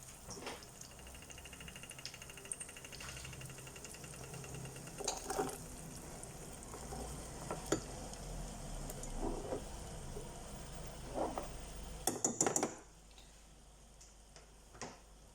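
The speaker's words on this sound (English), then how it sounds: "we're going to saute our onions until they're nice and golden brown" Onions sauté quietly in a pan for a kidney bean and potato curry, giving a soft, steady sizzle with occasional spoon taps and stirring scrapes, and a brief clatter of utensils near the end.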